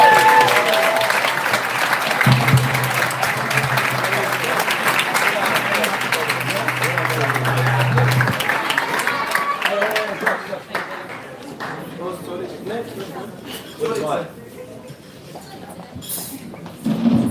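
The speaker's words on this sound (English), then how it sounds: "One more big round of applause," Wedding guests give a loud, sustained round of applause after the speeches, dense clapping for about ten seconds before thinning out into scattered claps and murmuring voices.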